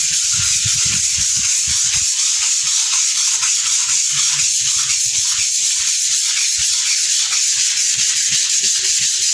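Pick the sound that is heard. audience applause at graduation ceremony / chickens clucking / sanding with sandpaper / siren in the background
sanding with sandpaper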